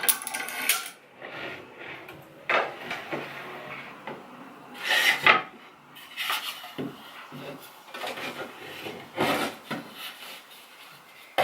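Wooden rings are dropped and slid onto a wooden dowel: irregular clusters of hollow knocks, rubs and clatters come in bursts with short quiet gaps, close and moderately loud.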